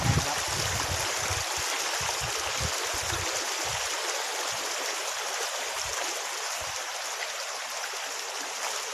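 A mountain stream flows in a steady, close, continuous rush of water, with a few low bumps and knocks of handling near the start.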